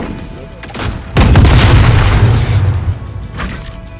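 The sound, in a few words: flashbang grenade exploding in a video game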